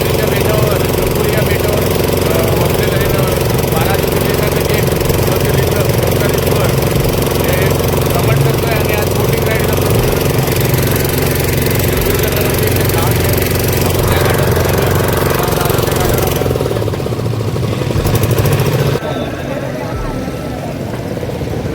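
A motor boat's engine runs steadily on the river at Omkareshwar, a loud continuous drone with rattling that then drops away near the end as the engine cuts, with voices faintly underneath.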